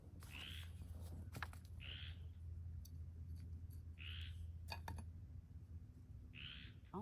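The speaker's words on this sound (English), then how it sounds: "I hear frogs croaking" Faint calls in a quiet garden at night, four short evenly spaced croaky hoots a couple of seconds apart, with soft clicks and a low steady hum beneath.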